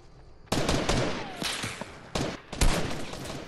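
Video game gunfire breaks out in sharp, loud bursts of rapid automatic shots, with short pauses between volleys, after a quiet start and with no talking.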